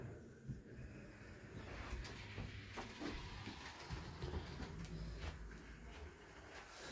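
A Hornby Grange Class model steam locomotive clatters steadily along its track, with light rhythmic clicks and a faint hiss over several seconds, no voices.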